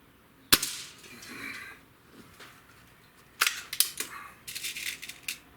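An Umarex Fuel air rifle fires a single sharp, snappy shot, followed by quieter mechanical clicks and handling sounds as the rifle is worked outdoors.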